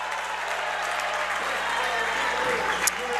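A crowd at a high school basketball game claps and cheers in a dense, steady wash of applause that fills the gym, loud and close throughout.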